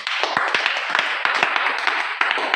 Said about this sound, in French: On acclame ça, frère.